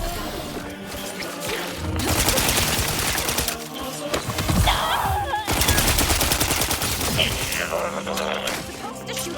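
Rapid bursts of gunfire from The Outer Worlds 2 played on hard difficulty, loud repeated volleys with crashing impacts stretching across the whole stretch, with a voice talking over parts of it.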